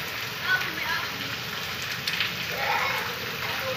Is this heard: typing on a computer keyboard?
no